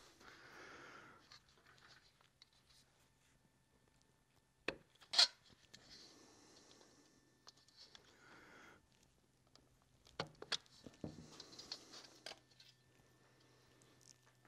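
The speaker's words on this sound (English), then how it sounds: "I need to take this black trim, the internal trim, off of these sugar scoops" Black plastic interior trim being pried off plastic sugar scoops, giving faint scraping and rubbing with a few sharp plastic clicks and snaps, quiet and close, with no talking.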